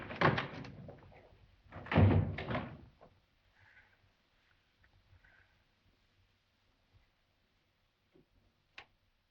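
In a 1943 zombie film, a door swings open and then closes, giving a couple of loud creaking, thudding bursts at the start, followed by near silence with faint creaks and a small sharp click.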